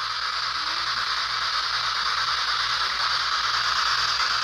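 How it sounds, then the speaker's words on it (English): A ghost-hunting device set up in an old high school gives off steady hissing white-noise static with a faint pulsing low rattle beneath, continuous and even, and no voices. "when I turn this on, you should be able to talk through the white noise"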